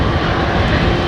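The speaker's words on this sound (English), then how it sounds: "Is that one of these jets that's taxiing up, perhaps?" Jet aircraft engine spooling up while taxiing at London Heathrow during heavy runway 27R departures, a steady, loud broadband roar with a low rumble that holds unchanged throughout.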